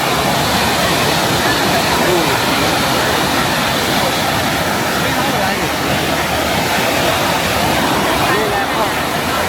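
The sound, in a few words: water flowing, waterfall at Chongqing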